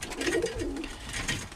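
A yellow Birmingham Roller pigeon cooing in a loft, soft repeated throaty coos close by with no speech.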